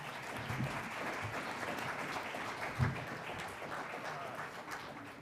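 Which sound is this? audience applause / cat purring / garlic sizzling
audience applause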